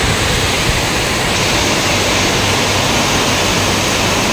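Heavy stormy rain driven by strong wind roars constantly and loudly around a flooding company premises, a dense, unbroken wash of noise with no talking.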